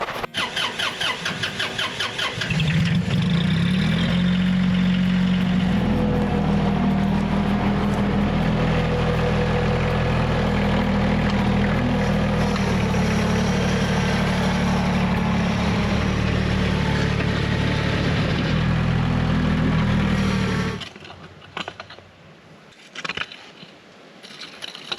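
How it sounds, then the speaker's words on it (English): A tractor engine starts and runs at a steady low idle for about eighteen seconds, loud and close, then cuts out, leaving faint knocks and scrapes. "I'm gonna take the bucket of the tractor, just kind of even this out, smooth it out a little bit"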